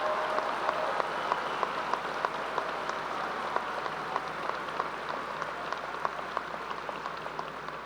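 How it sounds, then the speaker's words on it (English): A high school graduation audience applauds in a large hall, giving a steady, moderately distant roll of clapping with a few sharper individual claps standing out on top. "Please give them a round of applause for these two men's service"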